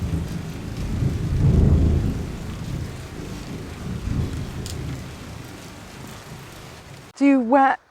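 Steady outdoor rain with low, rolling rumbles that swell and fade like distant thunder, a broad wash of noise carrying on for several seconds before a brief burst of a voice at the end.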